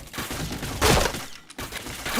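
Burst of gunfire in a shooting video game, with a loud broadband volley near the middle over steady background noise and brief clatter near the end.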